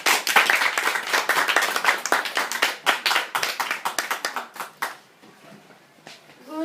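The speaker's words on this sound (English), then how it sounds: "Ms. Ronilyn Baloy, please give a round of applause." Audience at a high school debate applauds in a dense burst of hand clapping that thins out and fades after about five seconds, with brief noise at the end.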